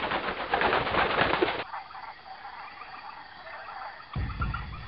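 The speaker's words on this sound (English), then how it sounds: "That's a harpy eagle, Carlos." A harpy eagle calls in the rainforest canopy of the Magic School Bus video game, with loud bursts at the start and again near the end and a quieter stretch between them.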